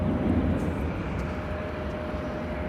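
An airplane arriving on runway 24 left at LAX, a steady broadband engine roar that holds loud and continuous throughout, with no voices.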